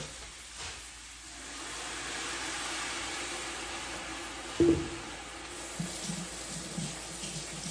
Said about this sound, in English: I'm gonna actually add some water just to stop the cooking process to some extent.